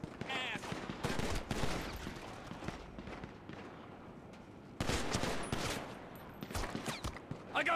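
Gunfire in GTA 5 during a shootout with police snipers, repeated sharp shots in clustered bursts, close and loud, with brief pauses between volleys.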